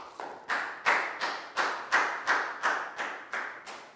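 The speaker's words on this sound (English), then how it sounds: "Big round of applause for Pak Bung." Pupils in a Year 4 English class clap in a regular, evenly spaced rhythm of about eleven sharp claps, close and distinct, with no talking.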